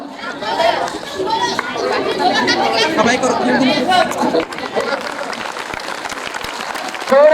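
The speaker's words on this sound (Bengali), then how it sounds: "করতালি" Clapping from a crowd at a school sports and cultural event, with a chief guest opening the program and peace doves released. The applause is close and sustained under loud chatter and voices, swelling and then thinning toward the end.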